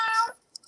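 A cat gives a single clear, close meow that rises and falls, followed by a couple of faint short high squeaks.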